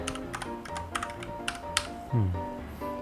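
Typing on a computer keyboard, a quick irregular series of crisp key clicks, close and clear, with a brief low thump near the end.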